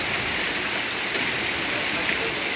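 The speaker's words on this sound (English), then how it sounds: "They're braving the hail." Hail bouncing off a roof, a dense, loud, continuous patter of many small impacts with no distinct individual hits.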